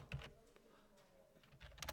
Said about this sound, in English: what's happening with the typing?